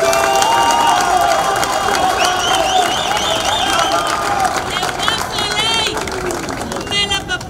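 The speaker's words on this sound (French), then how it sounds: "vous méritez d'être ovationné et applaudi" A crowd applauds and cheers for the President of the Republic at a national identity card ceremony, with dense clapping and a bustle of voices and music-like tones running throughout.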